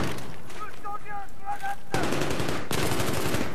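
Gunfire from a player's weapon in Battlefield 3, a dense sustained burst of loud shots kicking in partway through and cutting off briefly before resuming, preceded by quieter game noise.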